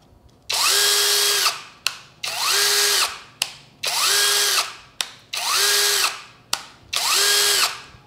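A Bull BL26Li cordless brushless impact drill runs in five bursts of about a second each, with brief gaps between them and a sharp click or rap at the start of several bursts. It is loud and close, with no talking.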